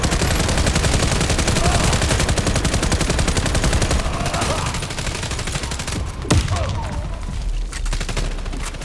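Close, loud automatic gunfire fills the Warface shooter match, rapid continuous bursts thinning out partway through, with one sharp single report later.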